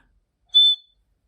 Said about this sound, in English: we're blowing the whistle again